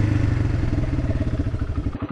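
A Kawasaki Brute Force 300 ATV engine runs at a steady, close mid-pitched drone with a pulsing, slightly clattery rhythm, alone without talk.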